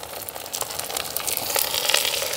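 Steady crackling sizzle of onions and green chilies frying in hot sesame oil, continuous and close, slowly building in intensity with no voices.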